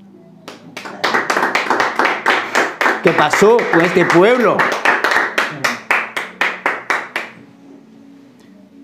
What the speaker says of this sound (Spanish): Oye, yo le dieron un aplauso a Dios.